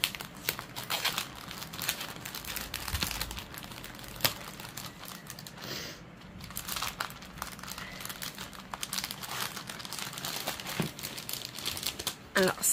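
Packaging of a Moldovan-made Luca-s cross-stitch kit with an embroidery hoop and needle is crinkled and rustled steadily up close, with sharp plastic crackles and brief tearing bursts.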